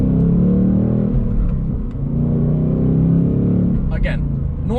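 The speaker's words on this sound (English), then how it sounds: "we'll go down to first gear too, just so that you guys can hear. They sound amazing" A 2024 Ford Mustang Dark Horse with active valve exhaust downshifts to first gear, its engine note swelling and dipping in a close, continuous rumble heard from inside the car, with a few short electronic beeps near the end.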